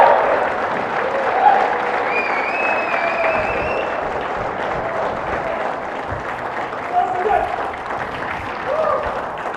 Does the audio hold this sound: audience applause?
yes